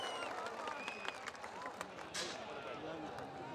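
An outdoor audience at a lucky draw event in Rampur Baghelan claps to welcome the chief guest, a scattered, fairly faint applause with crowd chatter and a voice over a loudspeaker mixed in.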